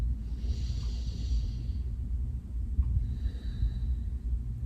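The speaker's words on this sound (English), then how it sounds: "breathing in and out" Slow, deep breathing in and out during a guided yoga relaxation: two long airy breath sounds, an inhale and then an exhale, close and soft over a low steady background rumble.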